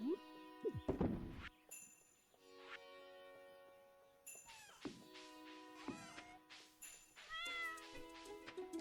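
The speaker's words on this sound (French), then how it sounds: "mon chat il fait miaou" A cat meows repeatedly in a video game, a series of tonal meows and yowls at varying pitch, with a clattering thud near the start and soft background music.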